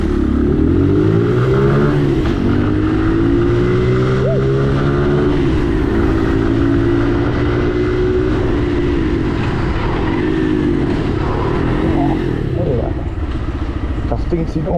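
A Brixton Crossfire XS 125 motorcycle rides off loud and close, its engine revving and climbing in pitch through gear changes, with wind rush throughout.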